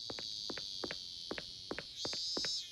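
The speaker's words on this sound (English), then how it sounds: "A lot of cicadas, by the way." Cicadas in the video game Zanki Zero drone in a steady high buzz, joined by a series of short rhythmic insect-like pulses and a brief louder swell near the end, all fairly quiet.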